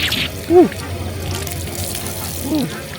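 Water streaming steadily from a street drainage fountain in Rome, a constant close splashing flow with two brief short tones over it and no clear talk.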